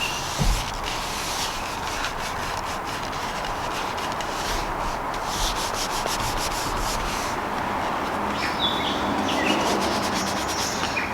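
Oil being rubbed by hand into an old, long-neglected axe, a steady close scraping and rubbing texture that runs continuously with faint birdsong in the background.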